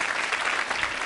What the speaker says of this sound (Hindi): सरोज जी के लिए तालियां जोरों से बजाइए